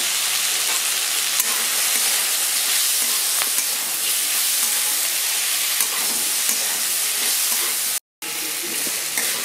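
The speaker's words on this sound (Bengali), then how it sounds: "তো আমার সব মশলাগুলো দেখুন ভাজা হয়ে গেছে" Whole spices with melon seeds and cumin fry in a pan for butter paneer masala, giving a steady close sizzle and hiss that runs unbroken apart from a brief cut near the end, with no voices.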